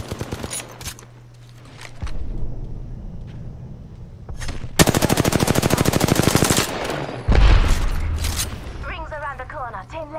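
Rapid automatic gunfire in a sci-fi shooter video game, a long dense burst of shots up close followed by another loud volley, with a player speaking over the action.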